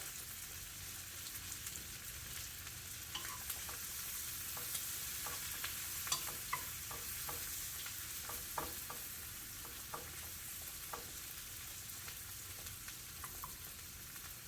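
Chopped Brussels sprouts frying in a pan over lowered heat, giving a steady soft sizzle with a run of sharp little crackles and pops and no voices.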